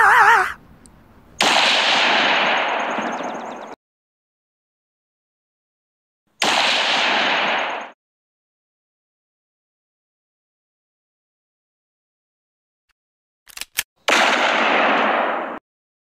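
Bursts of gunfire effects in a Lego animation: three loud, sustained volleys separated by silence, the last preceded by a couple of sharp cracks, with no talking.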